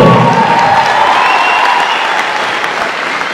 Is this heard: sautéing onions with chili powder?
no